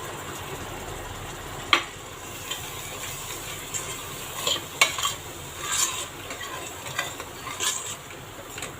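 Yogurt is stirred into sautéed mint and coriander in a pan for prawn biryani. It makes a soft, steady sizzle with scraping spoon strokes and occasional light clinks, close but quiet, and no one talks.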